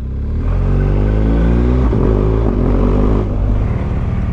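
A motorcycle engine with a rough, unhealthy note roars loud and close at steady revs, its pitch shifting as the bike rides a road in Croatia. No voices are heard.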